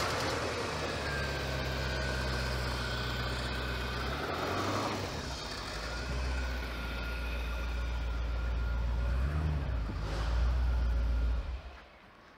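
The 5-litre twin-cam V8 of a 1991 Porsche 928 S4 runs with a deep, steady rumble, its pitch shifting as it revs slightly, then the sound cuts off abruptly at the end.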